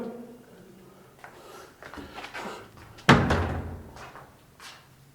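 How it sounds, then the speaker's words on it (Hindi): A door swings shut at a reputed haunted site, first with soft creaks and scrapes, then a single loud slam followed by a ringing decay and a faint later knock. "दरवाजा बंद हो गया। फिर बंद हो गया।"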